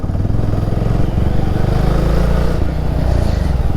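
A motorcycle rides along a road at the start of a trip to Kerala, its engine giving a loud, steady, close rumble with a slight clatter that runs throughout, with no speech heard.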